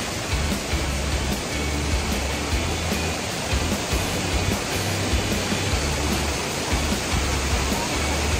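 Asik-Asik Falls, a broad curtain waterfall in Cotabato, gives a continuous, loud, even roar of falling water that holds steady throughout without a break.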